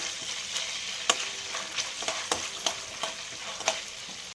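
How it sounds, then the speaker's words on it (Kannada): A bay leaf, sliced onion and green chilies fry in oil for mushroom gravy, giving a steady soft sizzle punctuated by regular light taps and scrapes of a stirring spoon. "ಒಂದು ಈರುಳ್ಳಿ ಹಾಕ್ಕೊಂಡಿದ್ದೀನಿ, ಹಸಿಮೆಣಸಿನ್ಕಾಯಿ 2 ಹಾಕ್ಕೊಂಡಿದ್ದೀನಿ, ಚಿಕ್ಕದು ಹಾಕ್ಕೊಂಡು ಚೆನ್ನಾಗಿ ಫ್ರೈ ಮಾಡ್ಕೊಳ್ಳಿ"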